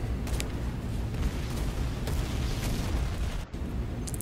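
An NPC enemy in the shooter game Warface fires through a wall: a few sharp, muffled gunshots spaced seconds apart, fairly faint over a steady background rumble.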